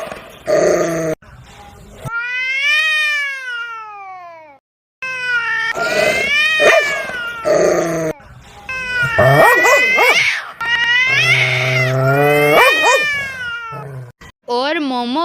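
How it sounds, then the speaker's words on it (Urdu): Cats yowling and screeching in a fight in an animated children's cartoon, loud drawn-out wails and caterwauls rising and falling in repeated bursts, with growls and short gaps between them. "اور مومو بلی زخمی ہو کر وہاں سے بھاگ گئی"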